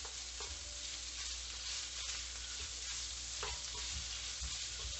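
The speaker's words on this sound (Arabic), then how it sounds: "كنزيد ليه هذيك المعلقه الكبيره تاع الزبده صافي، كندوبها شويه في هذا اللحم" A big spoonful of butter melts into browned beef in a pan, giving a dense, steady hiss and crackle that stays even throughout, close up with no voices.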